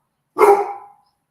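A dog named Bubba barking at its own reflection in a window: one loud, close, short bark with a slightly drawn-out tail and no other sound around it.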